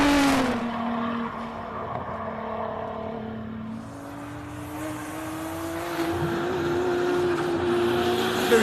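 Race car engines at the Simola Hillclimb whine and rev in the distance, pitch rising and falling as the cars climb, over a steady low background rumble.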